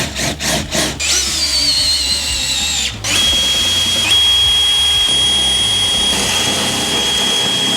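A power tool drills out rivets, snapping off their heads: a few short bursts, then a loud sustained whine with a brief pause midway, close and alone.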